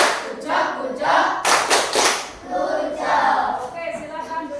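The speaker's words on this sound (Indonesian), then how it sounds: "Ayo sama-sama tepuk gujok." A class of young pupils doing the rhythmic tepuk gujok clap, several short bursts of group clapping mixed with children chanting along, close and lively in a classroom.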